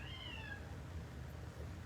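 A single drawn-out meow from an indoor house cat rises and then falls in pitch early on, followed by near silence over a low steady room hum.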